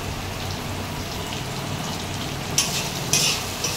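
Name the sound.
chopped tomato frying and being stirred in a pan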